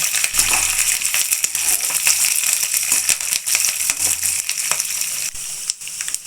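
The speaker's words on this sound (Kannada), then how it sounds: "ಕರಿಬೇವು ಗೋಡಂಬಿ ಉಪ್ಪು ಹಾಕ್ಕೊಂಡು ಚೆನ್ನಾಗಿ ಫ್ರೈ ಮಾಡ್ಕೊಳ್ಳಿ" Curry leaves, cashews and salt fry in hot oil with roasted lentils for a vermicelli upma, giving a dense, rattling crackle and clatter of stirring that stays close and busy throughout.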